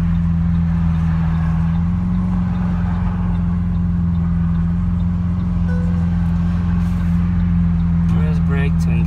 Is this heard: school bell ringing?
no